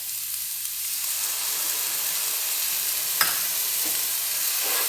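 Tomato, garlic and ginger paste fries in a pan with a steady, close, bright sizzle throughout, broken by one sharp clink just past the midpoint and a few softer taps.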